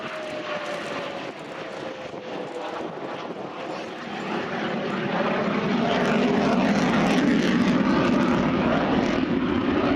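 A military jet makes a slow-speed pass with its undercarriage down at an airshow, a loud, steady engine roar that swells over several seconds with no talk.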